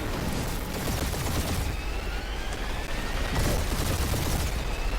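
Rapid spaceship gunfire crackles through a dense space dogfight in the Guardians of the Galaxy game, a loud continuous barrage of bursts and booms with brief swells, no voices over it.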